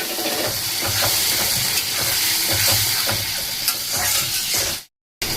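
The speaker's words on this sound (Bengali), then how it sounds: "এখন দিয়ে দেবো আলুগুলো।" Potatoes sizzle in a pan of cooked-down spice paste with turmeric and salt, a loud close hiss and crackle with repeated stirring scrapes, ending in a brief cut to silence.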